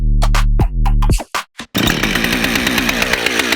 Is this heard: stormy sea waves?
no